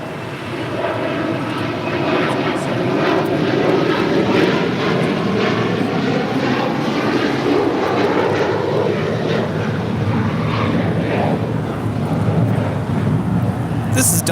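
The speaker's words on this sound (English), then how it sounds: "this is United 399 coming in from Newark on a 787-10 Dreamliner" United Boeing 787-10 Dreamliner landing at LAX after arriving from Newark, a loud sustained jet roar with sweeping engine whine, close by and continuous, with a voice talking over it.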